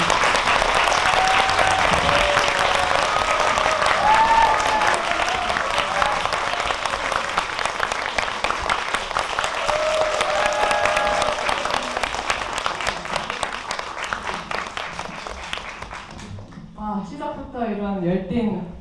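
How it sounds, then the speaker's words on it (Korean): Sustained applause and cheering from a cinema audience welcoming a film director and an actress onstage at a post-screening talk, dense and loud throughout, with whoops on top, fading out near the end as a voice begins speaking. "시작부터 이런 열띤 환호와"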